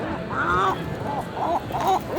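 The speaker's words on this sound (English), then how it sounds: "These seagulls are, it's like I have a rabid seagull behind me." Gulls outside Rotterdam Markthal give loud, harsh honking calls in several bursts, close by and clear over a low background hum.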